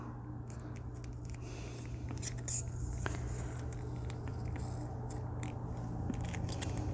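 Scissors snip through card while making button cards, a series of short close cuts and paper rustles over a faint steady background hum.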